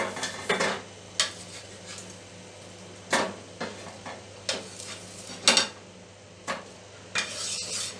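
Cooked bread toast lifted from a pan onto a plate, with a series of scrapes and taps of a utensil against cookware at irregular intervals over a faint background sizzle.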